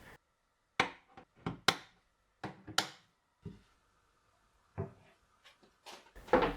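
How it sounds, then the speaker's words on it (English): Cabinet doors on a workshop workbench are snapped into place on their hinge fittings, giving a series of sharp, close clicks and knocks spaced irregularly against near silence. "securing the hinge fittings to the cabinets and to the doors and popping them in place"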